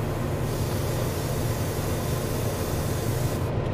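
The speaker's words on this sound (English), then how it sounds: "I can go closer and I can spray a lot." Aerosol spray paint misting black over gray primer on a resin anime figure, a steady continuous hiss lasting throughout, close and even with no pauses.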